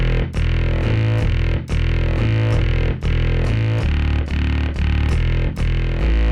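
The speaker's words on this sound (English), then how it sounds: "So string ensemble with the sine wave." A Yamaha PSS-390 keyboard plays loud, buzzy repeating chords in a steady rhythm, combining voice 41 and voice 99: a thick string-ensemble pad with a pure sine tone beneath, slightly distorted.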